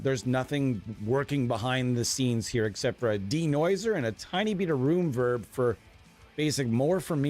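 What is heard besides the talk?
No everyday noises stand out.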